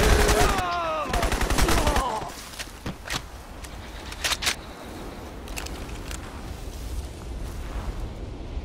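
Gunfire and explosions in the video game Crysis: a rapid burst of automatic fire opens loudly, then scattered sharp shots and thuds punctuate a rumbling battle backdrop.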